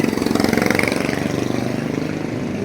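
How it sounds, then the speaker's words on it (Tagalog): A motorcycle engine idles close by, its loud, rapid, even putter pulsing steadily for a couple of seconds with no talk over it. "Ayun yung motor, oh."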